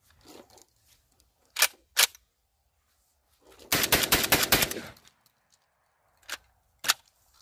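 Garaysar Fear-103 rifle firing outdoors: two single sharp shots, then a fast burst of about eight rapid reports, followed by two more spaced single shots.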